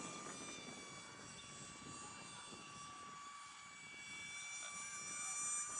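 A small Eachine Mini F22 Raptor RC plane's electric motor runs at half throttle, giving a steady, faint high whine with a constant pitch that swells slightly toward the end.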